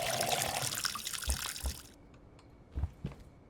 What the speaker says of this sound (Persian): بذار شیر پر کنم.